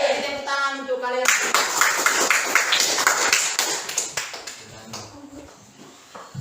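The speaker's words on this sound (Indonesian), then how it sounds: "Beri tepuk tangan untuk kalian." Students in a classroom break into a loud burst of applause lasting several seconds, many hands clapping together before it thins out and fades, with a teacher's voice heard around it.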